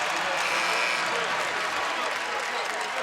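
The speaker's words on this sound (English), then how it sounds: "the Carolina fans are cheering for that like they're Virginia fans" College basketball crowd at an ACC Tournament game between North Carolina and Florida State cheers and applauds a shot clock violation, a dense sustained roar under a commentator's voice.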